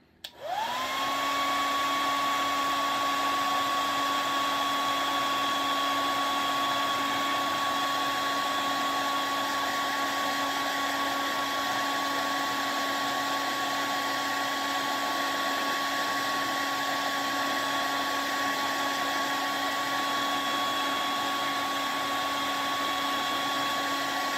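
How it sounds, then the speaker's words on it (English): A hair dryer switches on and blows continuously with a steady high whine and rushing air, unchanging and close throughout. "I'm going to get my trusty hair dryer."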